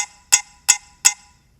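Three sharp, bright metronome app clicks sound evenly spaced at a slow steady tempo, crisp and close with silence between them.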